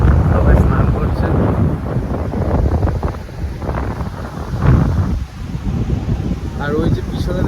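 Strong wind roars across the microphone at Kargil beach in Fraserganj, with surf and sea noise beneath, loud and continuous throughout.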